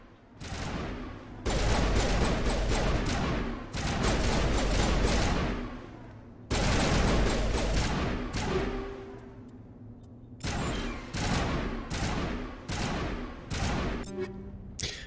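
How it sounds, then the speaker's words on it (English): Gunfire in the video game Mass Effect: sustained loud bursts of rapid automatic shots in long volleys, broken by brief pauses, with sharp single cracks toward the end. "What the heck are you shooting at?"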